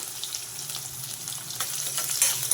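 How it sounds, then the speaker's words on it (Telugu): Thinly sliced onions fry on fairly high heat in a pan with shahi jeera, giving a steady close sizzle with occasional crackles and soft stirring scrapes, no voices. "ఉల్లిపాయలు కొంచెం హైలోనే పెట్టి తిప్పుకుంటూ వేయించుకోండి"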